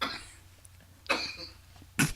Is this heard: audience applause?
no